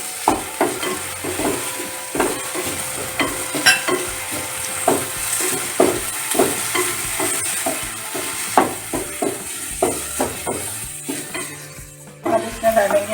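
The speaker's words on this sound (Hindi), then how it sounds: "अब इसमें हम डालेंगे हरी मिर्च, टमाटर, मिक्स कर लेंगे।" Green chillies and tomatoes frying in a pan while being stirred, a steady close sizzle under rapid, rhythmic scraping and clattering of a spoon against the pan, with no talk.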